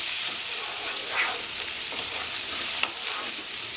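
Chopped raw jackfruit with onion and green chilli being stir-fried in oil in a pan, giving a steady close sizzle and hiss throughout with a faint clink of the spatula near the end.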